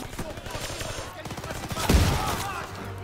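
A pump-action shotgun in the shooter game Call of Duty WW2 goes off as one loud, sharp blast amid rattling gunfire and other battle noise.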